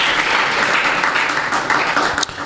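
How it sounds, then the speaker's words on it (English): A crowd gives a dense, continuous round of applause at a primary schools football tournament awards and closing ceremony, sustained and fairly loud throughout. "so let's give a round of applause to all of our other primary schools"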